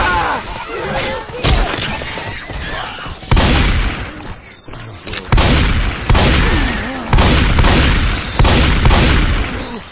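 Gunfire in the video game Left 4 Dead 2, Dark Carnival fairgrounds in versus mode, with loud repeated bursts of shots and booms in a dense, close, chaotic fight and voices mixed in.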